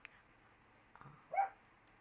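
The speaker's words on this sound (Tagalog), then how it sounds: "Medyo maingay ang aso namin." A pet dog at home gives a few faint, distant barks and yips in short separate bursts against quiet room noise.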